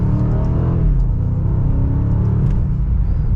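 A 2025 BMW M5 in Sport Plus mode, second gear, accelerates with a loud, close engine rumble that holds steady and strong from inside the cabin, with no talk over it.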